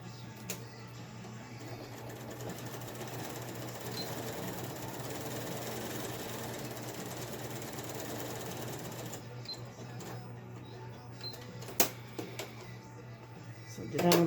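A sewing machine stitches fabric for a face mask, running in a steady close hum for about nine seconds before stopping, followed by a few handling clicks and thumps.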